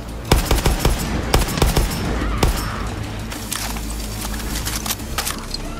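Gunfire in Far Cry 6, a loud quick burst of close shots at the start, then scattered bangs fading into a rumbling, noisy battle background.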